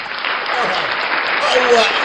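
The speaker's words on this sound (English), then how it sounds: "Give me a round of applause." An audience breaks into applause at a talk show, a dense steady wash of many hands clapping at close range, mixed with cheering voices and chatter.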